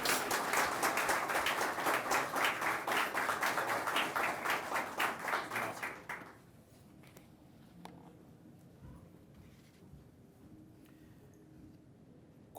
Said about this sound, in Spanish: Vamos a recibir con un fuerte aplauso al señor Dr. Wilson Gómez Ramírez